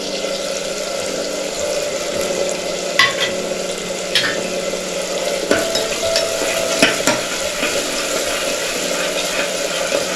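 Ginger garlic paste fries in a pan on medium heat for vegetable biryani, a steady sizzle broken by several sharp stirring scrapes and clinks of a spoon against the pan.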